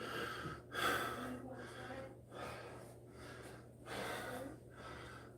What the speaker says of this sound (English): I'm sweating. I'm mouth breathing.